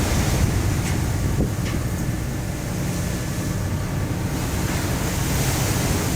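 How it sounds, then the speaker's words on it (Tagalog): Strong headwind roars and buffets steadily across an open sea with rough waves on a crossing toward China, with surf rushing beneath it; no voices. "Salubong kasi yung hangin."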